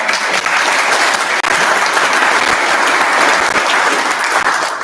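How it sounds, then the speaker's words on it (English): Audience applause at a vintage Japanese motorcycle club bike show awards gathering, loud, dense and steady clapping from a sizable crowd that carries on without a break for the full stretch. "And give another round of applause."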